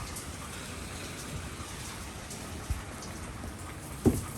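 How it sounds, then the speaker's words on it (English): Steady rain falls on a rainy Toronto morning as a continuous close hiss, with a couple of sharper drip or tap sounds standing out and no talking. "So here I go in the rain."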